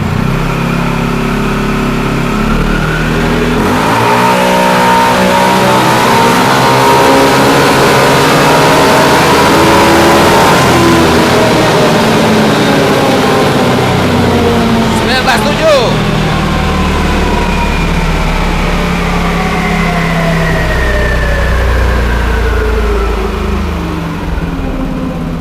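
A tuned Yamaha NMAX scooter engine revving hard, rising and falling pitch over a sustained loud drone, heard up close for a long stretch with people talking over it.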